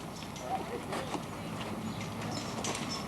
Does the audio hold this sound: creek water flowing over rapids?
no